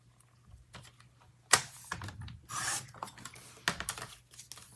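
Paper being cut with scissors while a reading planner is assembled, a run of close, crisp snips and rustling with short sharp cuts and crinkles, no talking.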